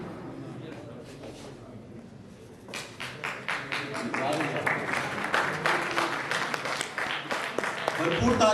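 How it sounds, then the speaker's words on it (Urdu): An audience at a mushaira in Faisalabad breaks into applause that starts quietly under a speaking voice and swells into dense, sustained clapping from a large crowd. "تو فیصل آباد کے بھرپور تالیوں میں انہیں رخصت کیجیے"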